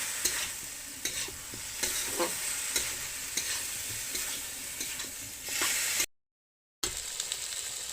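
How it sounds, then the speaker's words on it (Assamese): Broiler chicken with mushrooms and potatoes fries in a pan, a steady close sizzle broken by repeated scraping stirs, with a brief silent gap near the end. "এতিয়া অলপ সময় মই ভাজি থাকিম।"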